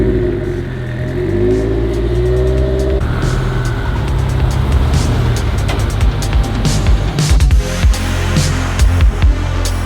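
A turbocharged Scion FR-S is reversed into a parking spot in an echoing enclosed space, its engine rumbling and revving steadily at close range, with stiff clutch engagement shifting the tone midway and no talking over it.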